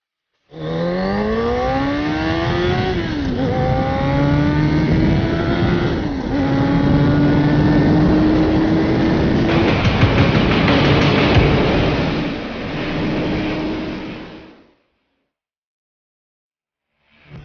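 A Suzuki RF900R sport motorcycle engine accelerating hard, revs climbing in long rising sweeps with brief dips at each gear change, loud and close, then cutting off into silence.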